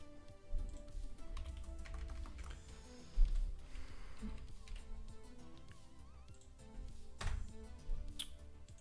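Soft, irregular clicks of computer keys being pressed for keyboard shortcuts, scattered in small bursts across a quiet room with faint low background noise, at the Stunfest 2021 gaming festival.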